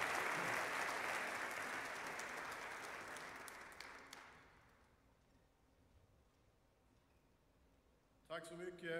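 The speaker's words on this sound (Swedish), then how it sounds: "Låt oss ge Max Federman en stor applåd." An audience at a Holocaust memorial evening applauds a speaker with dense clapping that fades out over several seconds, after which a voice begins.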